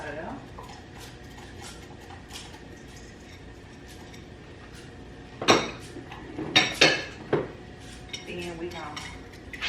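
Panko being folded into a crab cake mixture in a bowl: soft scraping and stirring, then a few louder clinks of a utensil against the bowl near the end, with talking over it.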